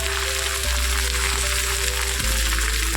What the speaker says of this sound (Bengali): কালো জিরে ফোড়ন দিয়ে ঢ্যাঁড়সটা তেলের মধ্যে নাড়াচাড়া করতে থাকবো।